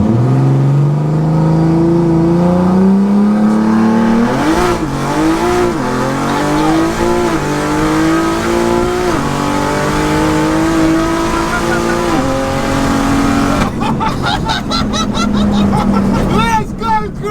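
A 1400bhp BMW launches and pulls hard, its loud engine note climbing through the gears in a continuous close roar. Near the end a harsh, crackling stutter breaks in, and excited voices can be heard under the engine.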